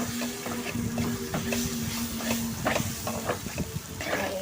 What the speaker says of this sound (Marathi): हे व्यवस्थित मी मिश्रण मिक्स करून घेते